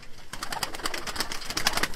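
Arab tumbler pigeons in a loft in Konya coo softly and repeatedly, a close cluster of overlapping throaty calls over faint background rustle.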